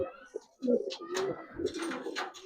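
Giribaz pigeons of a Palla-line flock, silver-winged birds, coo in soft repeated throaty bursts close by, with other bird calls mixed in and a faint hum beneath.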